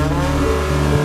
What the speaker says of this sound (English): He revs his engine to bring it up to temperature.